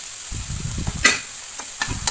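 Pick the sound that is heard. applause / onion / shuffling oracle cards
onion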